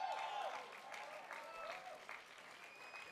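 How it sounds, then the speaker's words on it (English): At a student project development talk, an audience gives a short burst of applause, a dense patter of clapping that is close and fairly loud, with voices talking faintly beneath it. "Give him a round of applause."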